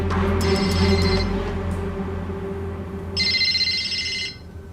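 Two electronic telephone ring bursts sound a few seconds apart over a low background hum, heard as if through a call.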